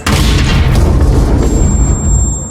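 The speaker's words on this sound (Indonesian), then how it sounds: "menekan sebuah tombol pada detonator dan pintu pesawat pun meledak" An aircraft door blown open by a detonator: a loud, deep boom bursts out and rumbles on for about two seconds before fading, with a thin high ringing tone appearing near the end.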